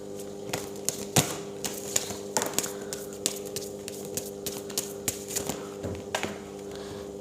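Tarot cards are shuffled with soft, irregular riffling taps and flicks scattered over a steady low background hum, fairly close and quiet, with no voices.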